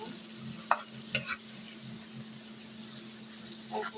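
Coriander powder, cumin powder and chopped green chilies fry in a pan with a steady, soft sizzle, broken by a few sharp spoon clicks and scrapes, with no talking.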